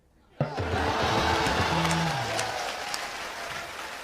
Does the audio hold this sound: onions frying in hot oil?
no